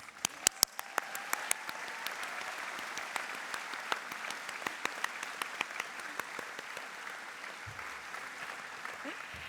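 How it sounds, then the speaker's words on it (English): A large audience at a university graduation ceremony for the Faculty of the Arts, Social Sciences and Humanities gives sustained, dense applause for the graduates, with a few sharper claps standing out near the start. "Round of applause for us."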